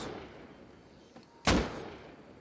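Gunfire in the survival game Rust during a tower raid: one loud, sharp gunshot rings out close by, with a fainter shot just before it, over steady background ambience and no talking.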